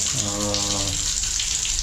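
Bathroom wash basin faucet running, a steady close hiss of flowing water over the whole moment, with a brief low hum at the start.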